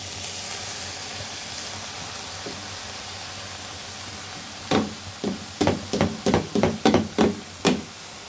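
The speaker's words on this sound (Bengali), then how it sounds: "এই পর্যায়ে দিব চাল। চাল দিলাম," Rice poured into a hot pan crackles and sizzles in a quick burst of sharp, close pops and hisses after a few seconds of quiet kitchen background.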